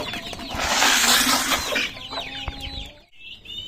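Hens with clipped wings and tails cluck and chatter close by in a cage, a steady run of overlapping calls with a few sharper squawks toward the end.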